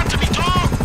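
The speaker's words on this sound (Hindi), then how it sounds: "अरे भाई ये हेलीकॉप्टर कहाँ से आ गया?" A helicopter in the video game GTA V, during the Merryweather heist, throbs with fast rotor chops and a whining turbine tone, loud and close, mixed with game noise in a short burst.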